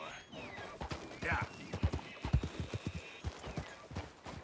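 Horse hooves clip-clopping in Red Dead Redemption 2, a steady run of close, distinct hoofbeats that picks up pace toward the middle, with a voice speaking over parts of it.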